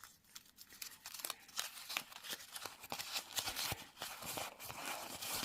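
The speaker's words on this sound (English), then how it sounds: "So all you do is just crumple it up as small as you can" A glossy magazine page is crumpled by hand, producing quiet, irregular crackling and crinkling bursts that come close together without any talk.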